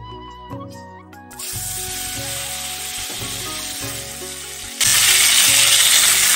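Dates and tomato go into a pan of frying mustard seeds and dried chili for a sweet-sour chutney; the sizzle surges into a loud, hissing roar, then grows louder again, over steady background music.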